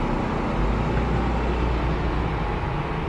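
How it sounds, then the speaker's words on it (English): A noisy food truck idles nearby with a steady, broadband engine rumble and hiss that holds constant, without breaks or other distinct sounds. "and the noisy food truck"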